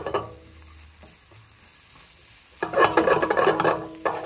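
Onions and garlic cook down in a pan with a low hiss and soft scraping at first, then a louder, busier sizzle and stirring for the last couple of seconds.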